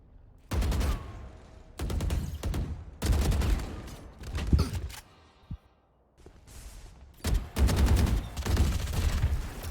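Vandal rifle bursts in a Valorant match, several loud rapid-fire volleys separated by short pauses, each a dense crackling stream of shots with brief gaps of near silence between.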